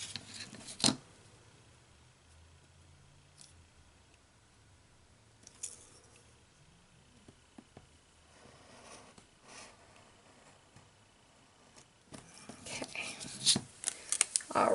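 Scissors cutting through paper for a treat bag topper, quiet close snips and rustles spread through a calm stretch, with a few sharper cuts at the start and a busier burst of paper handling toward the end.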